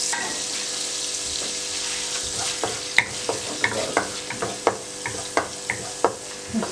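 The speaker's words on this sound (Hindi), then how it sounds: "और इसको आपने हल्का सा फ्राई कर लेना है।" Chopped garlic frying in a pan for chicken vegetable noodles, a steady close sizzle broken by repeated sharp clinks and scrapes of a spoon stirring, with no talking.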